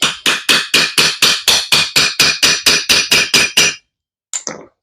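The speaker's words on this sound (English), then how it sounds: "I'm going to use this bearing race installation tool." Fourteen sharp, evenly spaced metallic hammer blows on a bearing race installation tool, driving in the front main seal of a John Deere M engine, ring out in a steady rhythm, close and loud, followed by a pause and a brief clink.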